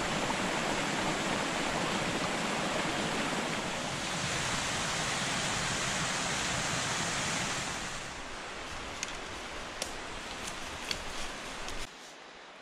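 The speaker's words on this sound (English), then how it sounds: "we're getting pretty close to where this creek joins another creek" A mountain creek in the Smoky Mountains rushes steadily and loudly close by, a dense unbroken wash of flowing water that eases slightly toward the end, with no voices.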